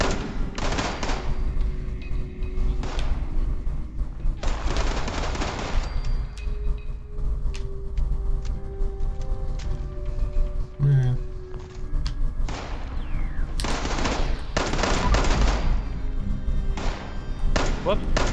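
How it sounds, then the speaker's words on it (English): Gunfire and impacts in Fallout 76 gameplay: repeated bursts of shots and thuds spread through the stretch, mixed with game sounds and a constant low rumble, with a person talking now and then. "Who's shooting now?"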